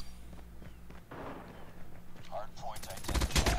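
A single sharp gunshot in the mobile shooter COD Mobile, arriving near the end after quiet game ambience and a few soft effects, with a brief burst of loud cracks at the close.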